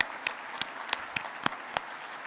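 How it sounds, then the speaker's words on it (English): At a spring Indigenous graduation convocation, a short burst of applause for the graduates sounds as a handful of distinct, evenly spaced claps over a faint hum of the hall. "One more round of applause."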